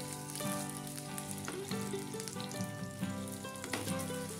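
Chicken seekh kebabs fry in a little oil on a tawa, giving a steady close sizzle with light crackles and a few soft scraping touches throughout, no voices.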